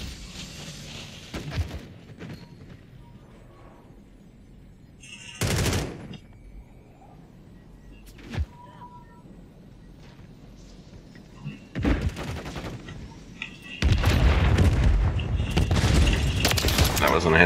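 Gunfire in the Call of Duty Modern Warfare 3 video game: loud bursts of shots at about 1.5, 5.5, 8.5 and 12 seconds, then a sustained heavy barrage of fire for the final few seconds, with game ambience between bursts.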